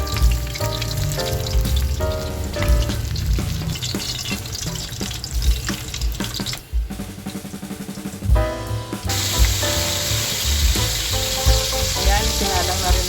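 Tilapia frying in hot oil in a home kitchen: loud, continuous crackling sizzle with sharp spits and pops, briefly dipping in the middle before surging back as fresh fish goes into the pan.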